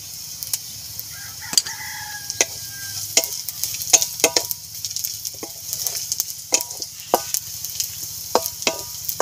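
Black cumin and spices fry with ginger and garlic in a pan for an aloo paratha filling, giving irregular crackles and spatula scrapes over a soft hiss, with a rooster crowing faintly in the background early on.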